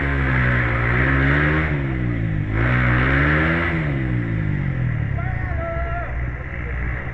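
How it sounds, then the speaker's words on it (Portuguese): A trail motorcycle on a muddy, rain-soaked track roars loudly and continuously, its engine pitch rising and falling through repeated throttle surges before easing off, with voices faintly present. "Meu amigo Ricardo Roça, acelerando firme e forte."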